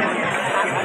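Dense crowd hubbub fills the Kunkeshwar temple fair, a steady, close wash of many overlapping voices with no single speaker standing out.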